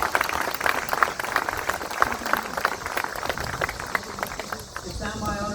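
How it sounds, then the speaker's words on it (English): A formal evening audience at Marine Barracks Washington applauds the Marine food and drink team, dense clapping that holds steady through the moment and thins toward the end, with a voice speaking briefly over it. "Let's give them a round of applause for it."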